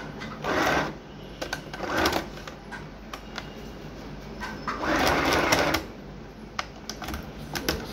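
A sewing machine running a zigzag stitch along trouser leg seams, in two clear bursts of steady mechanical whirring with small clicks and handling noises between them, fairly close and with no talking.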